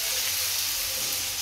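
Curry leaves, cumin and mustard seeds sizzle in hot oil in a kadhai, a steady, dense crackling hiss that holds close and loud for the whole moment.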